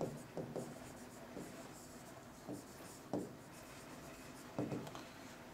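Handwriting on paper while working a money market calculation, soft scratchy pen strokes with a few louder taps between strokes, faint and close.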